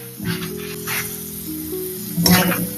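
Mutton masala with onion and tomato sizzles in a hot pan, a steady frying hiss with a louder surge of spattering near the end.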